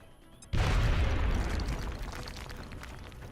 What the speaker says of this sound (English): She's ready to throw a grenade.